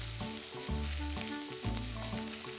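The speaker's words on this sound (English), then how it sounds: "so I'm going to add to that the garlic. Cook that off for a few seconds before you add anything else." Garlic sizzles in a pan with softened onions, a loud, steady close-up frying hiss with a faint low hum running beneath it and no voices heard.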